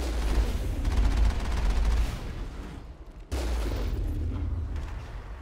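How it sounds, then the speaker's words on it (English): Heavy turret fire on Noveria in Mass Effect: a dense, continuous rattle of rapid gunfire with booming low end, breaking off abruptly near the midpoint and then resuming just as loud, with no voices. "A heavy turret."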